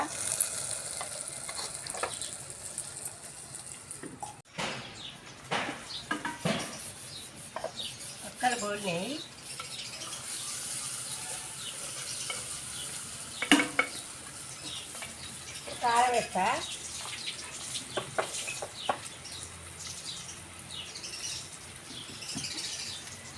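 Raw fish curry with ginger-garlic paste cooks in a pan with a continuous soft sizzle and scattered stirring clinks. Occasional bird chirps come in the background.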